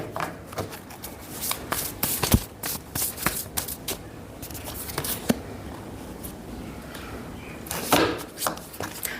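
Tarot cards are shuffled by hand in quick bursts of riffling and slapping, with pauses between; a close, crisp papery sound with a louder flurry near the end.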